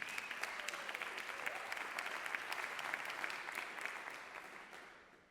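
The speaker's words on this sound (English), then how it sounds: "One more round of applause for Matt Davis." An audience at a spoken word and poetry night gives a round of applause, dense crisp clapping at moderate distance that holds steady and then tapers off toward the end.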